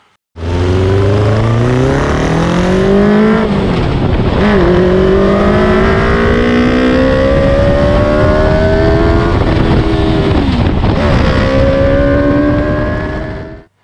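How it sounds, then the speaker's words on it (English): Intake roar from a car powered by a motorcycle engine, air filters mounted straight onto the throttle bodies, loud and close as it climbs through the gears, its pitch rising in several sweeps with brief dips at each shift. "The noise that I hear driving the car actually mostly comes from the intake, not the exhaust."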